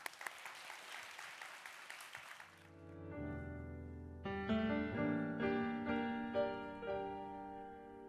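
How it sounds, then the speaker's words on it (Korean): Audience applause at a university worship service at Onnuri Church rings out briefly and fades within a couple of seconds, then gives way to sustained piano chords that grow into a soft instrumental introduction. "박수로 청해 듣겠습니다"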